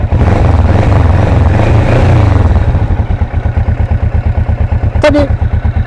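A Kawasaki Vulcan S parallel-twin with a small added exhaust valve revs loud and close, then drops back to a steady chugging idle with rhythmic pulses, and a short high squeak cuts in near the end.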